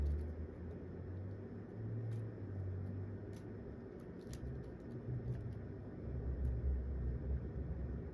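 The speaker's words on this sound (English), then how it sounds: "Can you hear the car?" A car passing by outdoors, heard as a faint, steady low rumble that swells slightly toward the end, under a quiet background with light scattered ticks.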